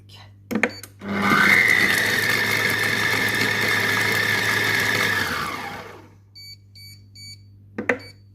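A Compact Cook Pro food processor chopping risotto ingredients at speed 5 roars loudly and steadily for about five seconds, then winds down, followed by short beeps and clicks nearby.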